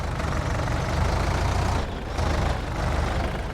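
A tractor engine in the farming video game Farming Simulator 19 drones steadily and loudly with a deep, rough rumble, dipping briefly near the middle before resuming at full strength, with no voices over it.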